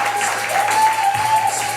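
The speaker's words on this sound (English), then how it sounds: "Let's give it up. Make some damn noise." Audience at a bar comedy show in Oak Cliff, Texas clapping and cheering, a dense loud burst of applause with a faint steady tone running underneath.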